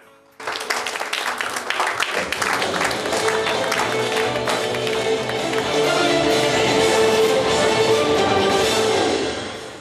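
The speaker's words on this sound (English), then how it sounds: "please make a huge round of applause for your host for today's event, Sachin Surlikar" Large audience at a Mr & Mrs Goa pageant event applauding the host, a sudden swell of dense clapping that builds and sustains loudly with crowd noise over several seconds, as music plays underneath.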